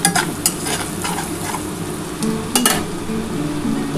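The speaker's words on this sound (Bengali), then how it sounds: "এবার এর মধ্যে কিন্তু আমি চিকেনটা দিয়ে দিচ্ছি।" Minced chicken sizzles and crackles in a hot pan, with sharp scraping and clinks of a spoon stirring it, steady frying noise throughout and no voices.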